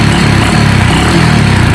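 A carbureted kick-start motorcycle under throttle, a loud, close, dense engine roar that holds steady and full for the short stretch without breaks.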